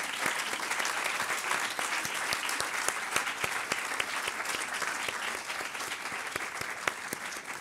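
An audience at an EU education event applauds the people shown on screen, a steady roomful of clapping with distinct sharp claps standing out throughout.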